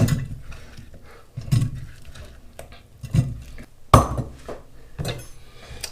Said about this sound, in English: I'm first gonna throw the pineapple down in there